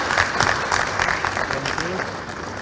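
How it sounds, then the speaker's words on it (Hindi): An audience at an awards ceremony claps to welcome a guest, a lively burst of close applause with a few voices and murmurs mixed in. "तालियों से स्वागत कीजिएगा।"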